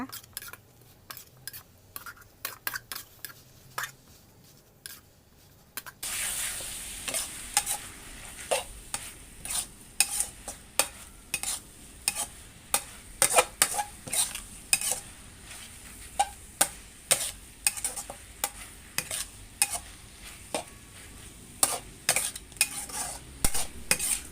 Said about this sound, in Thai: ผัดให้พริกกับหอมหัวใหญ่สุกเลยนะคะ